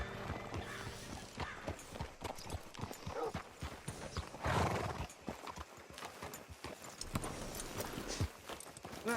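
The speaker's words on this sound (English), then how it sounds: "Hitch your horse up here." Horse hooves clip-clop at a walk in Red Dead Redemption 2, close and steady, with a whinny rising midway; faint game ambience sits underneath and nobody speaks.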